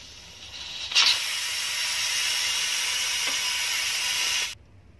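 A pressure cooker cooking lamb chops releases a loud, steady hiss of steam for several seconds after a sharp burst, then cuts off abruptly.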